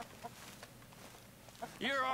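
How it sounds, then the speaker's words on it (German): Chickens in the video game Red Dead Redemption 2 give a few soft, distant clucks, followed by one louder, longer call near the end, with a voice talking over them. "Komm, wir haben sogar Hühner."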